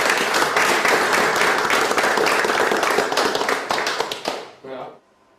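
An audience applauds an award winner at a company ceremony, dense clapping filling the room for several seconds, then thinning to a few last claps before stopping.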